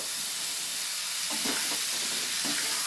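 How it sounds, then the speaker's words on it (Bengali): A loud, continuous hiss of potatoes and peas frying with spices fills the pan, broken by a few soft scraping stirs. "ভালো করে মশলাটা দিয়ে আলুটাকে কষছি"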